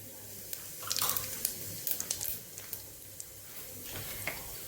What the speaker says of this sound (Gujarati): જીરું ફૂટી જાય એટલે